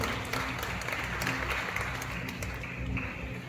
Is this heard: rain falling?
no